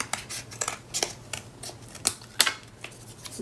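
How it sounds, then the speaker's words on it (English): Scissors snip out paper craft pieces in a quick, irregular series of crisp cuts, close and fairly quiet, with no talking. "I'm gonna let that dry a little bit while I cut out a couple more pieces"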